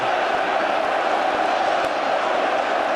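A dense, roaring football crowd celebrates Manchester City's league title, a steady wall of cheering and shouting that holds loud and unbroken throughout.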